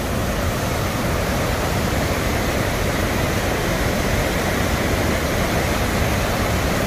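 The Spokane River rushing powerfully, a steady, loud, broadband roar of churning whitewater that continues unbroken throughout.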